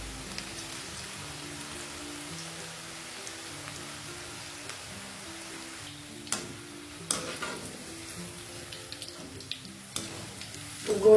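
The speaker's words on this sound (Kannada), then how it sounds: "ಅದಕ್ಕೋಸ್ಕರ ನಾನು ನಿಮಗೆ ಈ ಥರ ಮಾಡಿಕೊಂಡು ಎಣ್ಣೆಯಲ್ಲಿ ಫ್ರೈ ಮಾಡ್ತಾ ಇದ್ದೇನೆ." Cabbage pakoda fritters frying in hot oil, a steady close crackling sizzle that runs throughout, with occasional sharper pops and utensil clinks toward the end.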